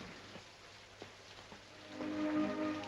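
Soft, steady rain patters in the background with a few faint drips, growing slightly heavier toward the end; no voices.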